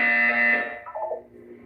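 A buzzer sounds in Portal 2, a bright sustained electronic tone held for about half a second before fading into a lower, wavering tail. Nobody talks over it.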